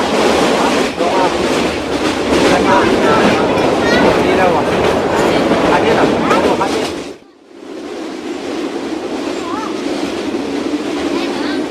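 A train runs along railway tracks with a loud, steady rumble and clatter. The sound drops briefly and then continues a little quieter, as if a carriage door closed.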